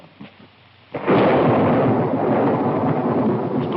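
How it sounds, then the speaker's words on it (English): A quiet stretch breaks into a sudden heavy roll of thunder that keeps rumbling loud and steady, a storm effect from a 1949 short film. "Storm coming up."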